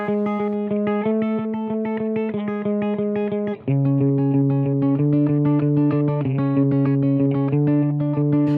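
A bright chiptune-style melody from Pokémon Gold, Silver and Crystal bounces between notes an octave apart in a steady repeating rhythm, dropping to a lower register partway through.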